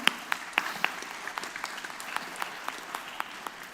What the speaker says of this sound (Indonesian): Tepuk tangan buat yang bertanya.